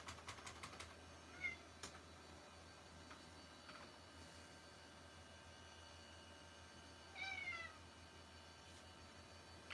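A nearby cat gives two short, soft meows several seconds apart over a quiet room hiss with faint clicks.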